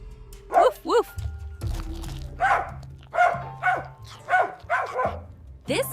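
Puppies barking in a cartoon scene, a series of short high yips and woofs in quick succession, close and clear, with voices and other sounds beneath.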